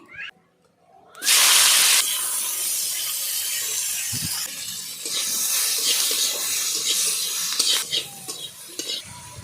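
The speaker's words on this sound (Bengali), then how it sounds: "আগে উচ্ছেটা আমি আলাদা করে ভেজে নেব" Bitter gourd fries in hot oil in a pan. A sudden loud hiss bursts out as it goes in, then settles into a continuous close sizzle with scraping stirs and small crackles.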